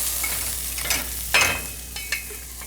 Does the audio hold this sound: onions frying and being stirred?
yes